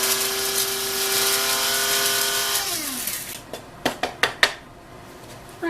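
A hand grinder crushes coarse salt in a kitchen, a few sharp crunching grinds that follow a steady machine-like hum.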